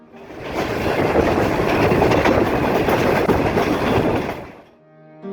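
A Pakistan Railways train rumbles past loudly on its rails near Yusufwala railway station, with dense clattering wheel noise, swelling quickly then fading away after a few seconds.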